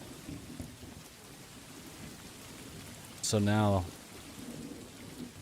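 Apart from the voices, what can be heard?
heavy storm sound effect with rain and thunder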